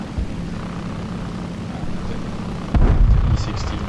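Propeller aircraft engine drone in a video game set during the Khalkhyn Gol battle, a steady low hum with a louder burst near the end.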